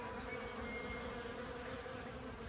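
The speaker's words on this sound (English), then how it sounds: "I don't know whether you can hear the humming of the bees." Bees swarm over a flowering melaleuca in a native garden, making a dense, continuous hum that stays steady throughout.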